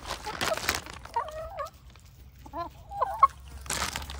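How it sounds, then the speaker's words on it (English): Chickens being fed give a few short, clear clucks and calls near the middle, with rustling and some crinkling noise at the start and end. "let me feed these chickens first"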